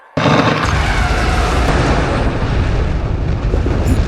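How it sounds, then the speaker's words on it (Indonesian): A sudden loud blast bursts in and roars on as a dense, crackling rumble of explosions and popping firecrackers, sustained and close. "Nih, petasan and ledakan."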